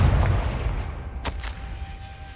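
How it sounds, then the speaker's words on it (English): The Confringo blasting spell goes off in Hogwarts Legacy as a sharp, close burst with a quick second crack, over loud rumbling game sound. "Confringo!"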